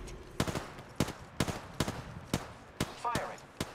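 Gunfire in the battle royale game Apex Legends, with about eight sharp, evenly spaced shots ringing out close and loud, plus a brief metallic rattle near the end.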